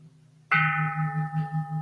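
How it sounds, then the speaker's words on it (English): A bell struck once at a Buddhist service rings out with a sharp attack after a low hum, then sustains a bright, steady ringing tone with a slow pulsing waver. "Vowing that the sound of this bell pervades the universal Dharma realm"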